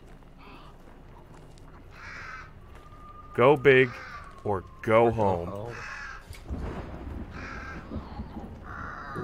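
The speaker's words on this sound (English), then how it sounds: "let's not try to set off all the crows" Crows caw in harsh repeated calls in the game Hunt: Showdown, several loud clustered caws standing out over game ambience while players talk.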